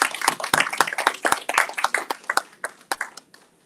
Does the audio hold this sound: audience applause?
yes